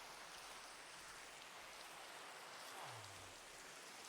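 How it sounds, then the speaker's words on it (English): Rain falls in the video game Minecraft as a soft, steady hiss, faint and continuous throughout, with no talking over it. "a quick nap to change it from night to day and stop the rain"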